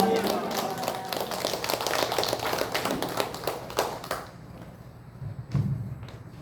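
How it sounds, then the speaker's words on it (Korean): Church congregation at a Korean praise worship service claps to welcome the pastor, a dense patter of many hands across the room that thins out and fades after about four seconds, followed by quieter shuffling. "우리 목사님 나오실 때 우리 박수로 할렐루야로 맞이해 주겠습니다."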